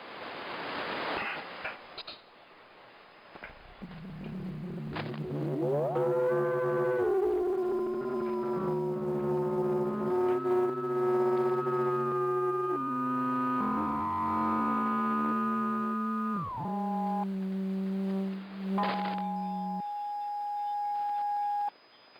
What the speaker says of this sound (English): Let's take about 30 seconds to tune our rigs.